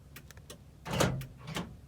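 A green van's door opening, heard as a couple of soft mechanical clunks and a sliding rush near the middle, followed by a smaller thud, close and without speech.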